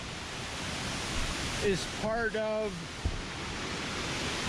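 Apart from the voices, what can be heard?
waterfall at Cueva de los Guacharos, Colombia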